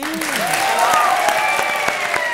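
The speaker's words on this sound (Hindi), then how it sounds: "जोरदार तालियां" Brief burst of studio audience applause on a comedy stage show, moderately loud and continuous, overlaid with sweeping musical tones.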